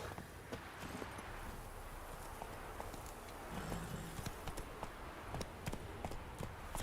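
Horse hooves while riding in the video game The Witcher 3, a steady, quiet clip-clop of repeated hoof strikes running throughout over faint ambient background, with no talking.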